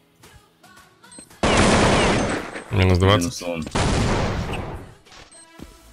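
Bursts of loud gunfire erupt in Counter-Strike 1.6 during a 5v5 match, several sustained volleys close together, with brief speech before and after the shooting.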